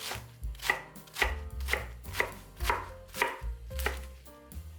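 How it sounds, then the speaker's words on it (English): Napa cabbage leaves chopped into chunks with a knife on a board, about eight crisp evenly spaced chops with a wet crunchy crackle, close and clear, no voices. "Cut into chunks 4 napa cabbage leaves"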